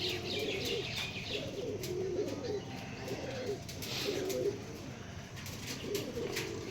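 Pigeons in a home loft give a steady series of soft, rolling coos, one after another at a fairly even pace, with light background noise and no talking.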